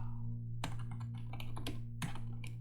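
Rapid, steady clatter of typing on a computer keyboard while entering construction schedule items in Excel, close-up over a low constant hum, with a short pause near the start.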